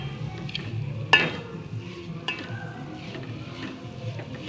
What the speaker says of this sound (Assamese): এয়া মই নাৰিকলৰ চিৰাখিনি ভাজি আছোঁ